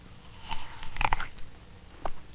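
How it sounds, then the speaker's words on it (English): Biting and chewing food: a few crisp crunchy bites near the mic, followed by softer chewing sounds and then another bite a moment later, with no voices. "Biting is voluntary."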